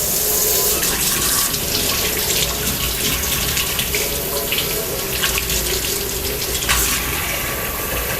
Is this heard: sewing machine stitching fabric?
no